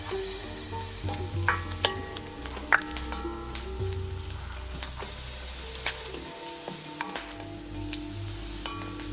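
Veld grape sautés in oil in a pan, a close sizzle with scattered crackles, ticks and utensil taps as it is stirred, fairly steady throughout.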